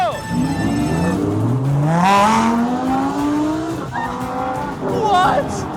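Lamborghini Huracán cars take off racing on a road, engines revving up in rising sweeps with tires squealing, loud and close, followed by a second burst of acceleration.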